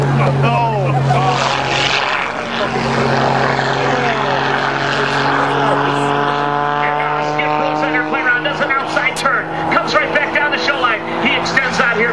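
An aerobatic propeller airplane's engine roars loudly at an air show in Janesville, Wisconsin, its pitch rising and falling as it rolls, climbs vertically and maneuvers, with a commentator talking over it.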